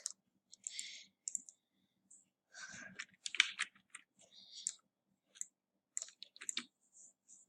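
Soft, quiet mouse clicks, scattered irregularly in short bursts with brief pauses between them, close-up and alone with no talking.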